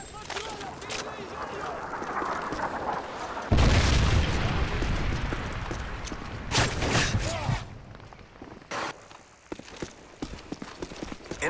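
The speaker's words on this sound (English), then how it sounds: "Friendly predator missile inbound." A predator missile strikes in Modern Warfare 3 gameplay, a loud booming blast that rumbles and decays over several seconds amid ongoing game noise, with a voice speaking over parts of it.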